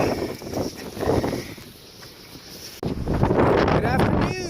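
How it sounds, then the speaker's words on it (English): Strong windstorm gusts on a farm roar across the microphone in uneven surges, loud and close, with rumbling buffeting that swells and eases and then jumps abruptly stronger near the end. "It is another windstorm here. Pretty bad actually."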